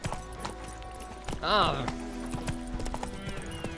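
Roach, the horse in The Witcher 3, gallops with rapid, close hoofbeats, gives a whinnying neigh midway, and a man's brief grunt is heard.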